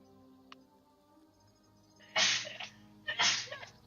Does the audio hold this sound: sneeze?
yes